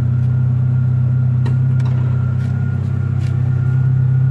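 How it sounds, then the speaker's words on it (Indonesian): A 1993 Mitsubishi Eterna's engine idles steadily and close by, a smooth continuous low hum with a faint whine above it and a few light clicks, no voices. "Oke, kita lihat mesin sambil kita start dulu."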